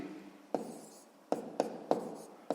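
A pen writes on paper during a sixth-grade math exercise, making faint scratching strokes with several sharper taps spaced irregularly, close and quiet.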